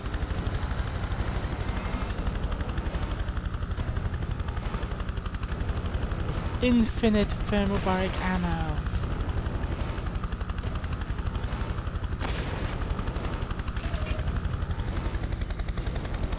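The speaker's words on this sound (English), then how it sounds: "They give me the most powerful helicopter in the game" A military helicopter in the video game Prototype 2 drones with a steady, heavy rotor rumble throughout, while gunfire rattles and a voice speaks over the noise.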